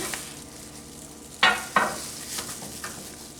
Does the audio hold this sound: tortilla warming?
yes